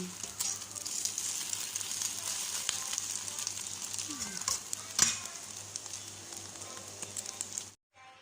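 An egg frying in a hot pan, a steady close sizzle and crackle that carries on for several seconds with a few brief louder pops, then cuts off near the end.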